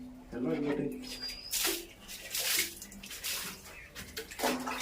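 Water is poured and splashed over a dog during a bath, with broad gushing bursts that come and go while people talk nearby.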